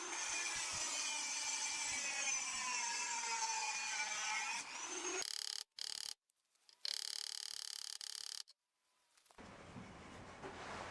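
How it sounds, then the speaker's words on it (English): A Dremel rotary tool cuts through zinc-coated nails on an upcycled lawn mower blade, a loud sustained high whine that breaks off into short bursts and gaps before a softer hiss returns. "I'm just going to snip that with the Dremel really quickly."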